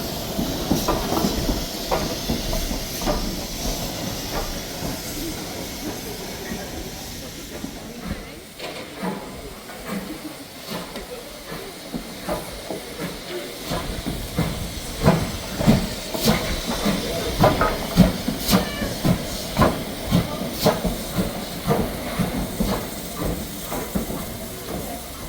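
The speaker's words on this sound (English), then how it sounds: "that is the steam train" Steam hisses steadily beside a working steam train on the Dartmouth to Paignton line in South Devon, with rhythmic clanking and chuffing beats. Voices murmur faintly under the continuous noise.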